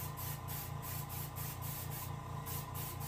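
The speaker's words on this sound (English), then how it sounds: "it takes a lot of control with your airbrush" An airbrush sprays paint onto a reproduction rainbow trout, a continuous close hiss with a fast regular pulsing flutter running steadily beneath it and no voices.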